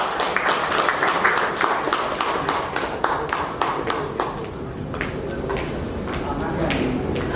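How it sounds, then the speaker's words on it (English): Audience applause in a meeting hall at a Toastmasters demo meeting, a steady round of clapping with dense scattered hand claps running throughout and fading slightly toward the end. "Big round of applause for her."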